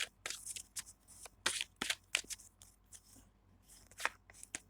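Tarot cards are handled and drawn from a deck, giving quiet, close, irregular slaps and swishes of card stock in short bursts with brief pauses between.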